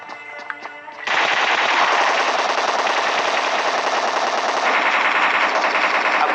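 Sustained automatic gunfire in the battle royale game PUBG, a loud, dense burst of rapid shots that runs for several seconds after a brief quieter lead-in.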